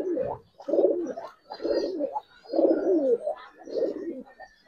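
Giribaz and colouring pigeons at a market in Old Dhaka give five or six close, low, rolling coos in a steady rhythm, each rising and falling, with short gaps between them and no talk.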